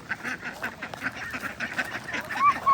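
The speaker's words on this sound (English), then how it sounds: "look at, they're ducks. They're ducks already." Ducks on a pond at a rural property give a steady run of nasal quacks and honks, several birds calling in overlapping bursts at moderate distance, with open outdoor air behind them.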